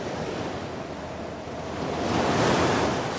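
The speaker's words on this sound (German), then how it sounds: "Und immer wieder schlugen große Wellen mit Wucht auf den Deich." Large storm-flood waves driven by a heavy gale pound against a coastal dike, a dense, continuous roar of surf that swells louder toward the end, with wind noise blended in and no voices.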